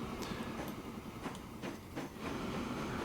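Rumbling train rolling along the track in the railway game Transport Fever 2, a steady low mechanical drone with faint rail clatter and light squeaks, moderately loud and continuous without talk.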